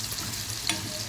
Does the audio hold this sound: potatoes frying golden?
yes